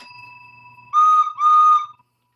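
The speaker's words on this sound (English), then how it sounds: "I have bells and whistles." Two loud, shrill blasts from a hand-blown whistle in quick succession, each lasting under half a second, with no voices over them.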